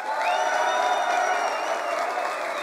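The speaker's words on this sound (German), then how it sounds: "Wie klingt ein Applaus der Stufe 10 hier in Nürnberg?" Loud, sustained audience applause at a Gridslam event in a Nuremberg hall, a thick, continuous wash of clapping and crowd noise with some cheering tones.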